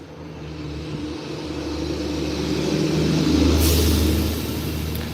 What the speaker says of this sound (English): the reason you hear a lot of trucks going by is because there is a whatchamacallit